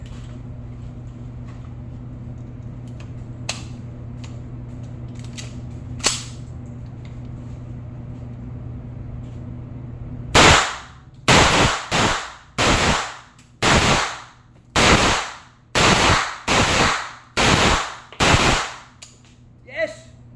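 Armscor firearm firing at an outdoor shooting range in La Union: about ten loud, sharp shots in a quick irregular series, each with a short ringing tail, after a stretch of low steady background hum.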